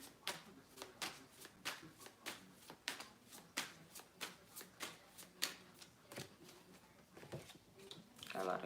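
Tarot cards are shuffled in a steady run of crisp riffling bursts, roughly two per second, close by, with faint breathy voice sounds underneath.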